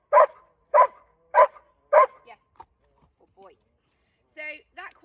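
A dog barks on a speak command: four sharp, evenly spaced barks close by, then a few soft whines and yips trailing off into quiet.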